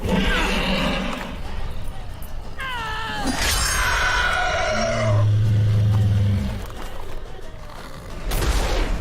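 A horse in The Witcher 3 neighs and whinnies in rising, wavering calls through the middle of the clip, set over continuous game ambience with other animal-like cries.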